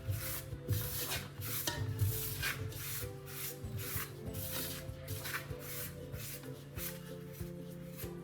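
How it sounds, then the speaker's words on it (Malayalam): Egg paratha dough ingredients with corn oil are mixed by hand, making soft, continuous squishing and rubbing sounds in a steady rhythm, faint and close, with no talking. "ഇതെല്ലാം നല്ലതുപോലെ ഒന്ന് മിക്സ് ചെയ്യാം"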